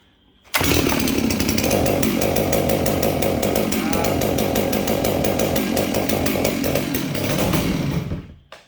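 A ported Stihl MS 660 chainsaw with a Max Flo muffler starts and runs at a steady loud, raspy drone for about eight seconds, then cuts off abruptly, heard close up and on its own.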